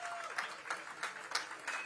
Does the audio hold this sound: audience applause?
yes